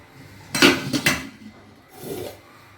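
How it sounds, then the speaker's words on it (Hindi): Cooking pots and dishes are emptied in a home kitchen. Close metal clanks and scrapes come in a short burst, followed by a softer scraping clatter a second later, with no talking. "बर्तन खाली कर देती हूँ, फिर मुझे धोने भी हैं बर्तन"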